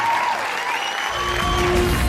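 An awards-ceremony audience bursts into loud, sustained applause welcoming a star comedian, with dense clapping that swells and grows fuller toward the end.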